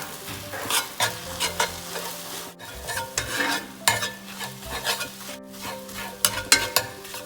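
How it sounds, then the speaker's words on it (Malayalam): Beaten egg frying in a hot pan for restaurant-style mixed fried rice, a strong sizzle broken by repeated scraping and stirring strokes from a spatula, close and loud, with no talking. "എന്നിട്ട് ഞാൻ അടിച്ചു വെച്ചിരിക്കുന്ന മുട്ട അതിലേക്ക് ഒഴിക്കുന്നതാണ്."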